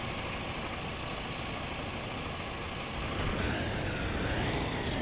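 A coach engine in the Fernbus Simulator driving game idles with a low, steady rumble, then revs up noticeably louder in the last couple of seconds, with no voices.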